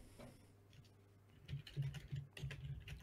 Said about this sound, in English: You can hear her typing.